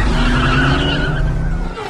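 A police car's tires squeal and skid loudly as the car pulls away, a sustained close screech lasting about two seconds with engine roar underneath.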